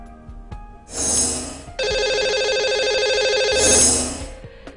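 A telephone on a live Hindi TV call-in show rings out as a call to a viewer is placed. The electronic warbling ring swells in, holds steady for several seconds and then fades, loud and clear with no talk over it.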